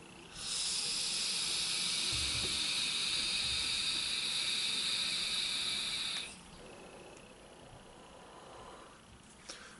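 A SubTank Mini vape tank gives off a steady, loud airy hiss of inhaling through the airflow for about six seconds, then cuts off and leaves quiet room noise with faint movement.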